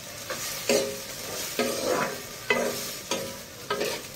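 Food sizzles in a frying pan while a utensil stirs it, scraping and clacking against the pan every half second or so over a steady frying hiss, close and unaccompanied by speech.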